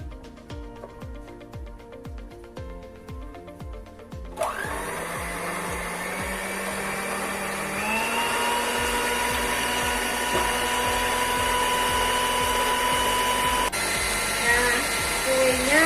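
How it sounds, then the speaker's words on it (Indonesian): An electric mixer beats bingka cake batter for a mango-flavoured bingka barandam, a steady loud motor whir that shifts up in speed partway through, running continuously with rhythmic clatter in the bowl. "Pengocokan ini akan berlangsung kurang lebih 20 menit sampai adonannya menjadi mengembang."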